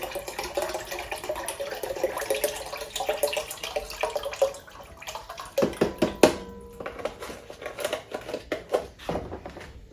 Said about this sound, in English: Now we're going to get the water and the broth started.